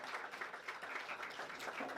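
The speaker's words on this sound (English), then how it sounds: "let's give them a round of applause" Audience applause after an introduction at a baseball showcase event in Saint Martin, a steady wash of clapping at moderate distance, fairly faint and continuous with no talk over it.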